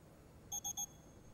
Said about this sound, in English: That beep when the fucking time turned